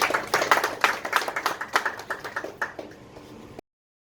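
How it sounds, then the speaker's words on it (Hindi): At a party, guests applaud Hakim Sahab with a quick run of distinct, sharp hand claps that come in brisk succession and then gradually fade and thin out before stopping, heard fairly quietly and with no talking. "एक बार जोरदार तालियां हकीम साहब के लिए।"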